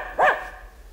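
A single short dog bark, close and clear, rings out in a quiet apartment, followed by faint room noise.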